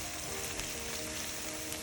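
Half an onion and small carrots sauteing over high heat, a faint, steady hiss of sizzling oil with no voices.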